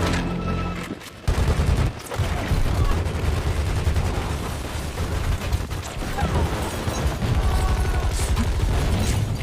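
Dense gunfire from a Triad squad storming a hut in an action film scene, loud overlapping bursts and booms running almost continuously with a brief lull near the start.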